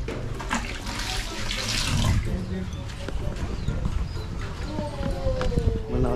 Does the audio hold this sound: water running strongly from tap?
yes